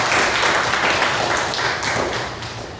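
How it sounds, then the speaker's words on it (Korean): A church congregation claps during a Sunday worship service, a close, loud burst of individual hand claps with audible distinct slaps that fades slightly toward the end. No one talks over it. "박수 한번 쳐주세요."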